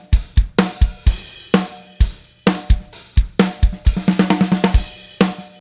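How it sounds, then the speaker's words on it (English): Dry, close-miked drum kit with no room ambience: punchy kick and snare hits in a steady groove, with a quick run of rapid tom or snare strokes near the end, loud and alone. "this is what the drums sound like without the room microphones"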